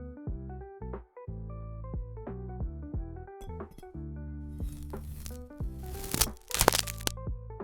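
An AI-generated ASMR sequence of a blade cutting a yellow mango: close, crisp cracks and crunchy slices over a tonal background, with the cuts growing denser and louder toward the end.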